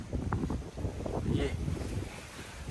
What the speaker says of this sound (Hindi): ये देखिए इधर ना हवा चली हुई है, अच्छी खासी हवा चली हुई है।